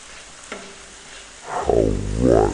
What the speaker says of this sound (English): Really wanna cook these tomatoes right down